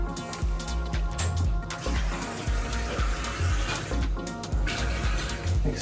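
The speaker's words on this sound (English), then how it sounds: "Mixer tap's working fine, it's draining very well." A kitchen mixer tap runs water into a sink during a London rental property inspection, the stream splashing and gurgling steadily as it drains, close and continuous with no talking.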